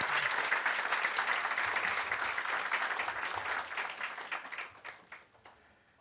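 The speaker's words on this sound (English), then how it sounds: "I think we should give Meredith and Pierre another hand." Dense, steady audience applause fills a hall at the University of Guyana Foundation gala on Valentine's night, loud at first and then thinning to scattered claps as it fades out.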